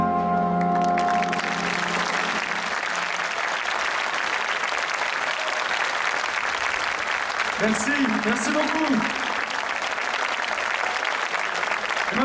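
A concert audience in Trèbes bursts into loud, dense applause as the song ends. The applause carries on steadily after the last notes fade, and a voice briefly thanks the crowd over it.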